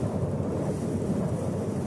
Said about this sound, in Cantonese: 喂，啲風越嚟越大啦